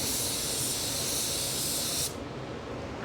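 A paint spray gun applying coats of metallic paint hisses in a steady, close, broad spray for about two seconds, then cuts off, leaving a fainter airy hiss.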